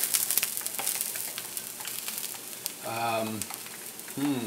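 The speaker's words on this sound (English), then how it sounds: "So we're coming down here so you can see the tuna. That is getting seared about a minute on each side." Tuna steak searing in a hot pan about a minute per side, a soft steady sizzle with a few clicks and brief kitchen noises, faint voice-like tones near the end.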